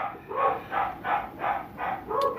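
Dogs barking in a steady rhythm, six evenly spaced barks that are fairly loud and slightly distant, heard alone with no talking.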